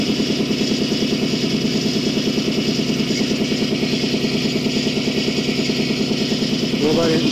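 A Nissan 350Z on its first starts after work on the timing side, with exhaust leaks, idling in a steady, even, close rumble throughout, a voice speaking briefly near the end.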